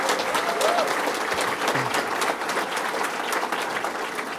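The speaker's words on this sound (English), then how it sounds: "give Joe Sancho a round of applause." A crowd at an outdoor fishing tournament event gives a steady, dense round of applause, loud and sustained throughout, with faint voices underneath.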